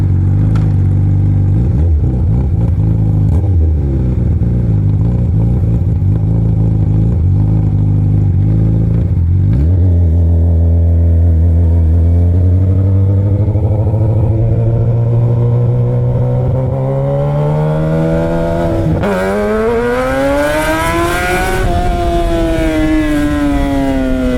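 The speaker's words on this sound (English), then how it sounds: "The engine's still warming up, so maybe it gets better." A Yamaha R1 motorcycle engine warms up with a loud, close, rough idle that climbs into rising, wavering revs, the pitch sweeping upward and dipping again near the end.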